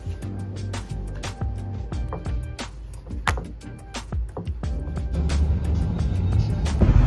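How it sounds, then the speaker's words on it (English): Dad's Jeep on a drive, a steady low road rumble with clicks and knocks inside the cabin, building slightly louder toward the end. "I am driving my dad's Jeep to Home Depot"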